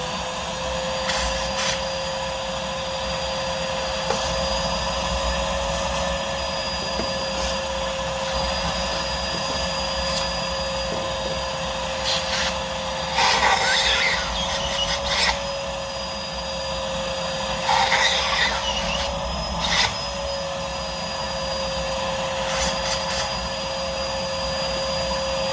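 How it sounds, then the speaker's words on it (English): A vacuum cleaner sucks debris out of an injector hole on a 1.6 HDi Citroen Berlingo Multispace engine, a steady whining drone running close and continuously with occasional rattling bursts as grit is pulled in. "I'm just going to give it a hoover up down that hole"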